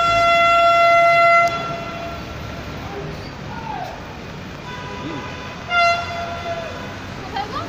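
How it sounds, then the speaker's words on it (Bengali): A Kolkata East-West Metro test train runs near Salt Lake with a steady rumbling roar. Its horn sounds in a sustained tone at the start and gives a short toot later, with faint voices in the background. "এই তো দেখো ছাদে মেট্রো আসছে। হ্যাঁ চালু না, টেস্টিং হচ্ছে"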